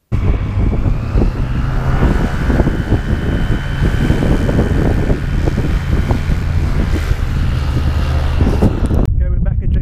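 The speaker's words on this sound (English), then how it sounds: "There's a crosswind from the right." Strong crosswind buffets a light aircraft in flight over the Kalahari, a loud continuous roar of wind and engine noise that stays heavy throughout and cuts off abruptly near the end.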